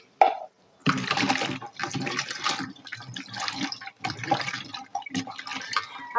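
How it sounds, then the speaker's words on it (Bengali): Cut potatoes, pointed gourd and eggplant are washed in water, with splashing, swishing and pouring in irregular bursts after a brief sound at the start, close and fairly loud. "এখন আমি হচ্ছে ধুয়ে নিব সবজিগুলো"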